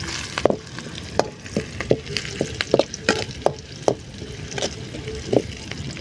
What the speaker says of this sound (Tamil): பட்டை மிளகா போட்டுப்போம் அதையும் சேர்த்து கிண்ட ஆரம்பிச்சிருவோம்